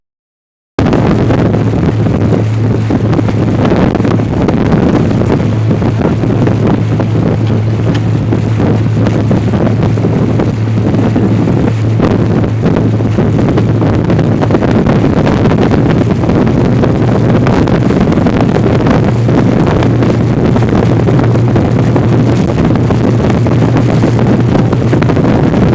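A scenic tour boat on a Winter Park lake pushes into the wind, its engine droning steadily beneath constant loud wind buffeting on the microphone for the whole stretch, with no talk.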